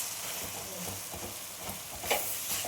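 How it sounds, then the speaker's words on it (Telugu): Flattened rice (poha) being stirred as it fries in a pan for upma, giving a steady close sizzle with soft scraping stirs and a brief louder clatter near the end. "మొత్తం అటుకులు వేసేసి బాగా తిప్పుకుందామండి"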